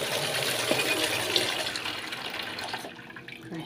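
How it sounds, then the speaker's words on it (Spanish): Half a litre of water pours into a container for mixing dish soap, a steady close splashing stream that tapers off and stops near the end. "Entonces vamos a colocar medio litro de agua."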